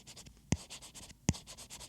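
A stylus draws on a paper-like matte screen protector on an iPad Pro, making soft, close scratchy strokes in quick repeated bursts, with two sharper taps standing out among them.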